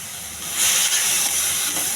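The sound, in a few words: chickpeas with green chillies sizzling in pan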